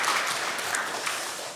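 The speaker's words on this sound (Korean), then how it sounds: "다시 한번 우리 박수로 하나님께 귀한 영광 올려드리면 감사하겠습니다" A church congregation claps together in a dense, even burst of applause that fades slightly toward the end.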